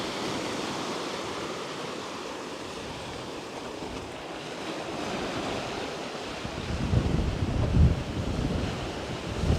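Sea waves wash onto the rocky shore of Khao Laem Ya national park in Rayong under strong wind, a broad continuous roar that swells louder toward the end, with no voices.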